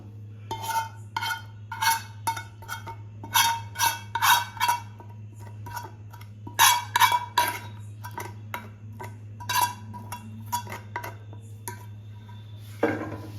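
A spoon clinks against a bowl in irregular bursts of metallic scraping and tapping while a mixture is stirred, over a steady low background hum.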